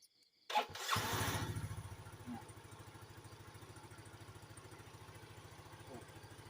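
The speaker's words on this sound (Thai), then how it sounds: "เดี๋ยวเรามาลองสตาร์ทกันดู" A Yamaha Fino scooter engine cranks and catches, revving briefly before settling into a steady, close rhythmic idle that keeps running to the end.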